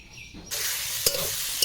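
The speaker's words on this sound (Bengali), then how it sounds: "পটল আলু কিন্তু আমি লাল লাল করে ভাজা করে নিয়েছি" Pointed gourd and potatoes fry in a pan until reddish, first quietly, then with a sudden loud, steady sizzle and a couple of sharp crackles or stirring knocks near the end.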